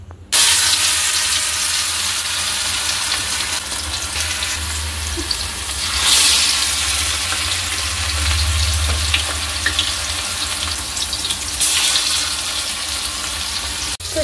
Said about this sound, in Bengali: তো এদিকে মাংস ভাজা চলছে।